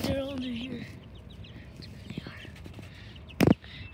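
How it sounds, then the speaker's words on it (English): Hens cluck softly for a moment inside a coop at night amid quiet whispering voices, followed later by a single sharp knock. "Chickens are all under here."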